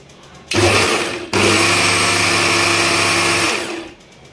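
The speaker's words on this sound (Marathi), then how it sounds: "आता आपण मिक्सरचं झाकण लावून परत एकदा मिक्सरवरती व्यवस्थित फिरवून घेऊ।" A kitchen mixer blends mango kulfi mixture with milk, starting with a short burst, a brief pause, then a steady loud whirring run of about two seconds that winds down.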